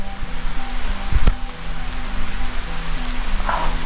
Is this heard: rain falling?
yes